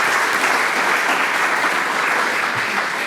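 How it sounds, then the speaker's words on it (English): An audience at an art awards opening applauds loudly and continuously, a dense, even wash of clapping throughout. "Please, another great round of applause to show our appreciation to Sarah."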